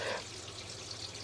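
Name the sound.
water running through household drain pipes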